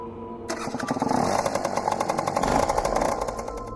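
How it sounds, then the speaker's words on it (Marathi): A scooter engine sputters to life with a sudden clatter after a kick-start, then settles into a steady, rapid two-stroke idle close by. "मग स्कूटरला किक मारली"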